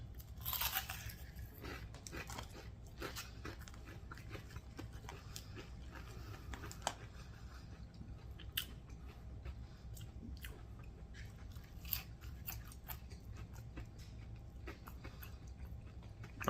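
Someone chews homemade carnivore-style fried mozzarella sticks close to the mic, with soft crunches and wet bites repeating irregularly over a quiet room background.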